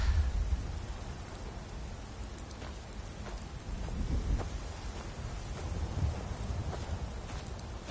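Steady rain pours in the video game Skyrim, with low thunder rumbling in and out beneath the continuous hiss of the downpour.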